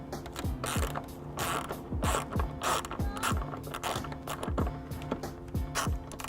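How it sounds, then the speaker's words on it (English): A 10mm ratchet loosens the tail light nut on a 2015 BMW X1, giving a steady run of close, rapid pawl clicks in repeated short bursts with faint mechanical creaks, with no voices. "I'll be using my 10mm to remove the nut off of the tail light"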